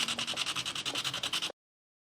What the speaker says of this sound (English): some sandpaper, and I'm just going to sand. This is a pretty heavy grit.